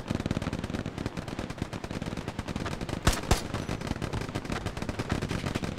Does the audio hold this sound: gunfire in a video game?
yes